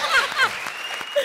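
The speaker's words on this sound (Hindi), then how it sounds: "जोरदार तालियां!" Studio audience of a Hindi comedy show applauding briefly, loud clapping mixed with whistles and cheers over show music, lasting about a second.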